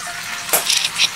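Potatoes and pointed gourd frying in a pan until browned: a close, steady sizzle with a couple of brief spatula scrapes against the pan, no talk.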